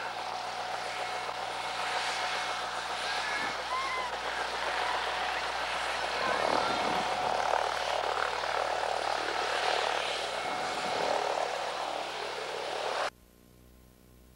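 A helicopter sits in a schoolyard, its rotor and engine giving a steady, loud whirring drone that runs continuously before cutting off abruptly near the end.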